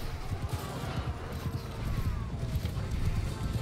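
Horse hooves in the video game Mount & Blade 2, a rapid clip-clop of several horses close by amid battle noise, with faint distant shots in the background.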